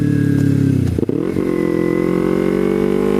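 A fuel-injected motorcycle engine runs loud and close. Its steady drone dips sharply at about one second, as if the throttle were cut or a gear changed, then recovers to an even, rising hum that continues to the end.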